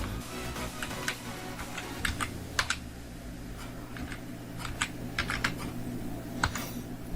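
Steady, fairly quiet typing on a computer keyboard, a run of light key clicks at an uneven pace with a few louder taps, set against a low electrical hum.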